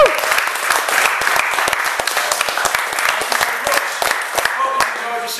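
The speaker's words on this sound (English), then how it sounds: "And a round of applause for Tom." A small crowd claps together after a tournament. The round of applause is dense and steady and lasts the whole stretch at a fairly close distance, with some voices mixed in.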